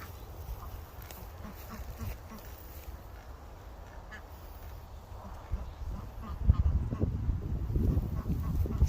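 A farm duck quacks softly now and then while people talk close by, with the noise growing busier near the end.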